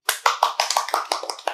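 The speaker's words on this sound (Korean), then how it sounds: "박수 소리가 혼자 박수 소리가 아니죠" Hands clap in a quick run of about a dozen sharp, dry claps, close and clear with a slightly uneven rhythm, as if a few people clap together, with no talking.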